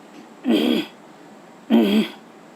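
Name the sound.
throat clearing during breathing exercise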